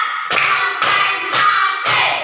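A fourth-grade class claps hands together in a counted rhythm, four sharp, evenly spaced group claps about half a second apart, loud and close, with no talking.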